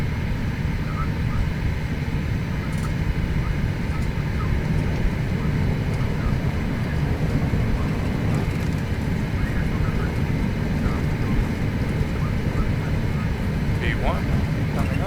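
A jet engine spools up to takeoff thrust in the FSX flight simulator, a steady loud roar that holds throughout, with a voice talking over it now and then.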